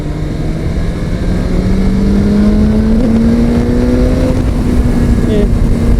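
A 2022 BMW S1000XR motorcycle engine pulls hard under acceleration, its steady rising whine climbing in pitch over six seconds, loud and close against continuous wind rush.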